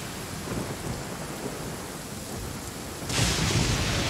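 Rain and thunder in the video game Genshin Impact, a steady rain hiss with a loud, close lightning crack and rumble breaking in near the end.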